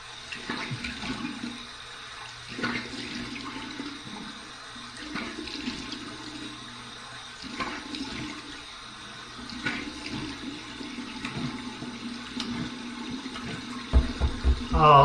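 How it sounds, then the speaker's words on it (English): Water runs from a tap and splashes in a sink, steady and close, with a voice speaking briefly over it. "here's my cold water rinse"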